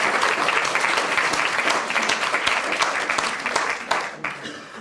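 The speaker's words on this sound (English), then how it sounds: "I'd like you to give them a big round of applause of welcome" An audience breaks into sustained applause to welcome guests at a university debate, a dense, loud wash of clapping from a large crowd that thins toward the end.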